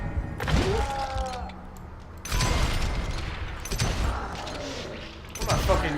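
Gunfire and impacts in the Western shooter game Call of Juarez Gunslinger, with bursts of shots and booming thuds in a busy mix of game sounds.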